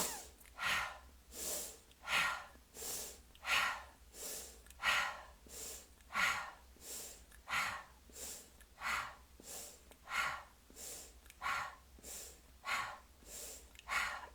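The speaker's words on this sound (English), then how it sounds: "short breath through the nose, short breath out the mouth" Short breaths drawn in through the nose and pushed out through the mouth during a meditation session, a soft, regular series of about a dozen close, quiet breaths in a steady rhythm, with no talking.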